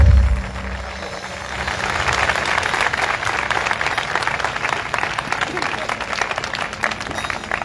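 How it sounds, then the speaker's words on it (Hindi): Sustained applause from a church congregation at an evening worship event in Nabarangpur, Odisha, a dense steady clapping that follows a brief loud thump at the start and continues evenly throughout. "आइए यीशु के लिए जोरदार ताली बजाएंगे"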